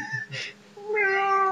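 A housecat that badly wants to go outside meows up close: a few short, soft sounds, then one long, drawn-out plaintive meow with no talking over it.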